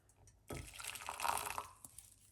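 Freshly brewed coriander tea poured into a cup, a short close splashing, trickling stream starting abruptly and running for about a second and a half before tapering off into a few faint drips.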